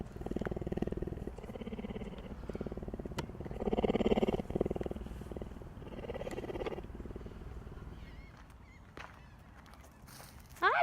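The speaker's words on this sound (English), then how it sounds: "cougars are the biggest species of cat that can still meow and even purr" A cougar purrs close by, a low, steady rumbling drone that swells and eases in slow waves, with a few faint clicks and a sudden louder noise at the very end.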